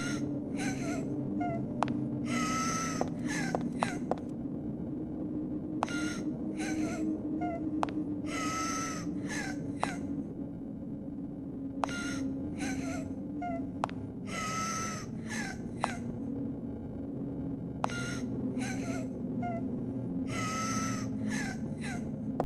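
Crying echoes through a hallway in the Silent Hill 3 video game as repeated wailing, sobbing cries over a steady low ambient drone, with occasional sharp clicks among them.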